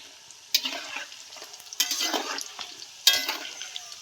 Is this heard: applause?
no